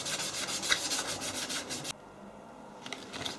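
Sheet of 1200 grit sandpaper rubbed back and forth on a metal cast handle, close and fairly quiet rhythmic scratchy strokes for about two seconds, then near silence with a faint final rub.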